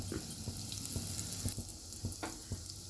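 Cumin seeds and asafoetida sizzle in hot mustard oil for a no-onion, no-garlic potato and beans sabji, a close, continuous frying crackle broken by soft spoon taps and stirring, with no talking.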